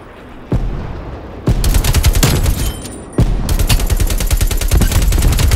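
Rapid automatic gunfire in a first-person shooter video game, loud close bursts of fast repeated shots separated by short pauses.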